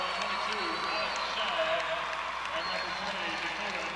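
A girls' high school basketball championship crowd applauds as a player leaves the game, a steady wash of clapping in a large gym under continuous talk.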